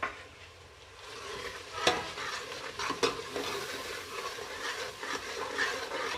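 Spices roasting in a pan for dal mash, a soft sizzle under repeated spoon stirring with a couple of sharp clinks against the pan, close and moderately quiet.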